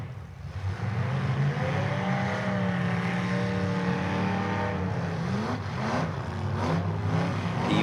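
A demolition derby car's engine cranks over and revs at a team derby event, a loud, close, rising and falling roar with strong harmonic whine that climbs and wavers throughout.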